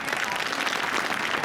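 Crowd at a political rally applauding in a steady, dense burst of clapping that fills the space loudly throughout.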